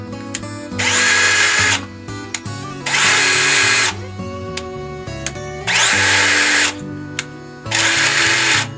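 A Doliz BD637 cordless brushless drill runs in four separate loud bursts with short pauses between them. The motor whine has a slightly rough edge, and it is close and clear with no talking.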